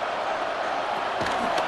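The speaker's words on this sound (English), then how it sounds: "This crowd doing all they can." Simulated stadium crowd in the Madden 26 football game roars steadily during a Cardinals vs Cowboys goal-line stand, a continuous mid-level din with a brief swell of thumps near the end.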